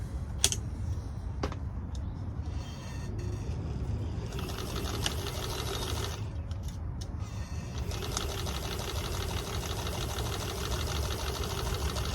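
Pages of a travel stitch journal are stitched together one at a time, a steady close mechanical whir with fine rapid clicking that runs unbroken throughout, with no talk.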